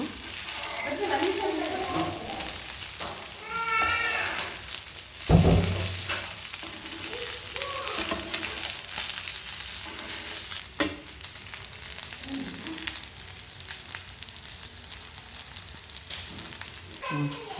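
Colocasia leaf patrode roasting in a pan, a continuous crackling sizzle with occasional scraping stirs and one louder clunk partway through, a voice murmuring at times over it.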